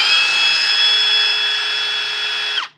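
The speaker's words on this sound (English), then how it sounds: "My drill doesn't have enough RPM." A power drill spins a small pump with a steady, loud high-pitched whine that holds for over two seconds, then abruptly winds down and stops.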